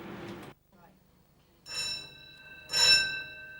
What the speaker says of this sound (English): I'll sound the emergency muster signal on the ship's whistle and the bells